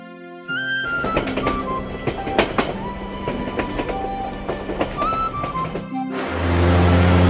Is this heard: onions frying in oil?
no